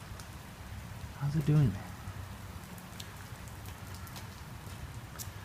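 Light rain patters steadily outdoors under blue skies, a soft continuous hiss with scattered drops, while someone briefly speaks near the start.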